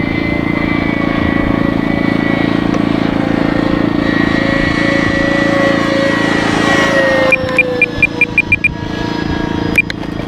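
A radio-controlled B26 model airplane from Bitgo Hobby flies at three-quarter throttle, its propeller engine giving a loud, steady drone throughout. A short series of quick electronic beeps sounds near the end.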